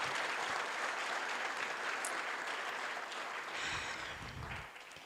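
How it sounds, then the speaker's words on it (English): A graduating respiratory therapy class draws a round of applause at their pinning ceremony: sustained clapping from a full room, loud and even, tapering slightly near the end, with a faint murmur beneath. "We all need to give them a round of applause."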